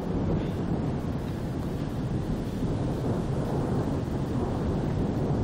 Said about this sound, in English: as you can see, the thunder just keeps rolling